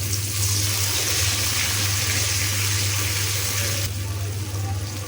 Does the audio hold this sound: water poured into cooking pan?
yes